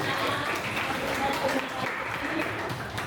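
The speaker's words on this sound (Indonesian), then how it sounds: "tepuk tangan kembali untuk Ibu Ajita" At a school outreach session on the MPR's four pillars, an audience of students gives Ibu Agita a round of applause, steady moderate clapping in a room with some murmuring underneath.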